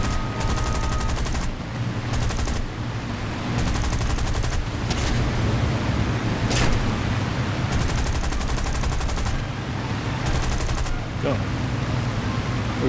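Aircraft gunfire in War Thunder: repeated loud bursts of rapid machine-gun fire come in several spaced volleys against a constant engine drone, with someone talking at times.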